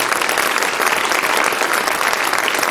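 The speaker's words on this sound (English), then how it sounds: "Let's welcome our students with a hearty applause" A school annual day audience claps in a dense, steady burst of applause that fills the hall without a break.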